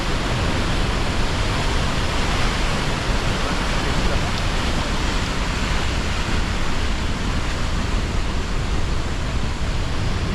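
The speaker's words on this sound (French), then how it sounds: "Cascade de Combe Noire depuis 1496." Cascade de Combe Noire, a mountain waterfall, roars loud and close in a dense, unbroken rush of white water that holds steady throughout, with no voices.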